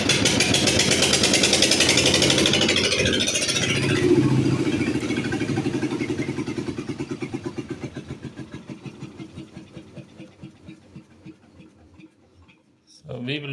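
A small water pump engine chugs loudly in a rapid, even rhythm, then gradually slows and fades as it winds down, with a brief clatter at the end.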